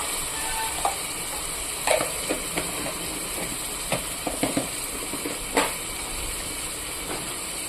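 Ginger garlic paste sizzles in hot oil for vegetable rice, a steady frying hiss broken by scattered clinks and scrapes of stirring.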